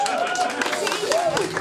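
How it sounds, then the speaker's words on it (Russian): Audience at a bar concert during a country music festival claps and cheers, with scattered applause under a voice speaking over it, fairly close and lively. "Ваши аплодисменты!"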